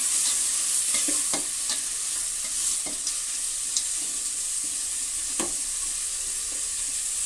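Carrots tip into a hot frying pan and are stirred, giving a steady soft sizzle with scattered scraping clicks of the spoon throughout, no voices.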